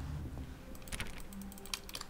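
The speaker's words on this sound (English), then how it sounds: "I like how when I click, it sounds like typing." Rapid keyboard-like clicking from mouse clicks in the video game The Stanley Parable, a quick run of light taps in a bursty rhythm, close and clear over a low background hum.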